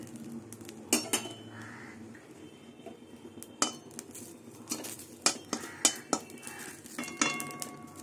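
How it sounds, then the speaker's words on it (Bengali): Dry neem leaves being stirred and tossed in a dry metal wok without oil, with scattered clinks of a utensil against the pan, close and fairly quiet. "এবার নিম পাতাটা আমি ভেজে নেব।"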